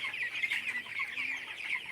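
A flock of broiler chickens on a farm cluck and chatter continuously in a dense, moderately distant chorus, with no talk.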